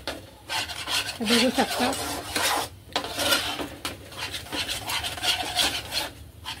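Besan zunka being stirred around a pan, a steady rasping scrape of spoon against metal that rises and falls continuously, close and fairly loud, with someone talking briefly over it.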